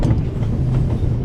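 A train runs on rails in the video game The Raven, giving a steady, close, low rumbling roll with no voices over it.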